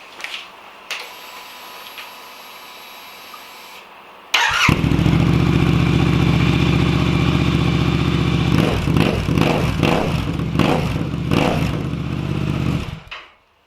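Royal Enfield Super Meteor 650 twin starts and idles through new aftermarket silencers, giving a loud, steady, deep burbling exhaust note with a few blips of the throttle before it cuts off abruptly.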